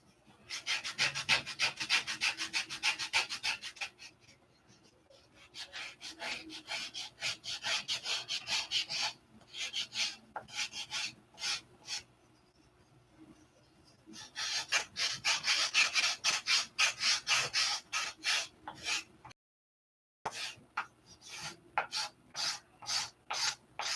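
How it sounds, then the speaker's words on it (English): Hand sanding of wood, repeated scraping strokes in quick rhythmic bursts with short pauses between runs, close and fairly loud, with no talk. "I think we'll keep sanding."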